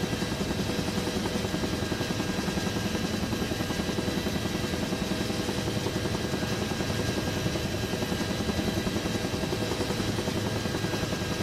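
A Huey helicopter in a video game, its rotor throbbing as a constant loud, dense drone with no breaks, filling the whole stretch on its own.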